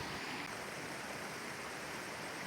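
Strong, steady rush of water pouring over Walayar Nine Waterfalls on the Kerala–Tamil Nadu border, a dense continuous roar with no pauses or voices.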